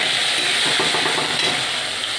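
Vegetables sizzle steadily in hot oil with salt and turmeric, a continuous close frying hiss with faint stirring scrapes throughout.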